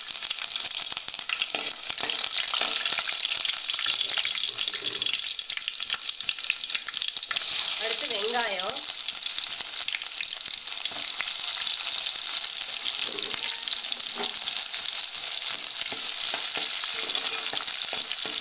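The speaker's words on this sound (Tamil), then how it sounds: "எண்ணெய் காஞ்சிருச்சு தேவையான அளவு சோம்பு சேர்த்துக்கறோம்" Fennel seeds fry in hot oil for a chickpea gravy, a bright, steady hiss and crackle that holds near and unbroken for the whole stretch, with occasional faint stirring.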